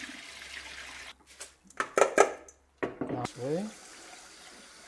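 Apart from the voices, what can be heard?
draining water from washed sushi rice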